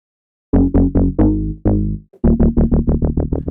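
An FM synth plugin plays a sequence of punchy, saturated notes through a soft clipper, with a gritty, clipped distortion edge, a few sustained hits, then a faster run of repeated stabs.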